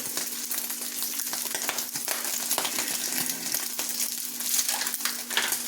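Meat for a taco salad fries in a pan, a dense crackling sizzle with scattered pops and scraping throughout, close and steady, with no talk.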